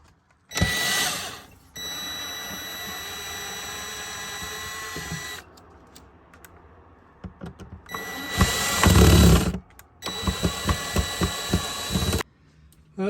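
Phillips screws being removed from the built-in roof access port of a 2025 Winnebago Revel van, with loud, sustained whirring bursts of a powered driver separated by quieter pauses and a few clicks and knocks.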